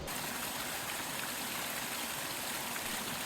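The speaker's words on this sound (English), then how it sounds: "we are at the Twin Cascades Waterfalls" Steady rushing water from the nearby Twin Cascades Waterfalls in Florida, Massachusetts, a constant broadband roar with no pauses and no voices.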